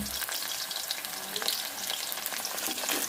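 A bitter gourd stir-fry (pavakkai poriyal) sizzling in a pan while being stirred, a dense constant crackle with soft scraping, close and moderately quiet, no speech.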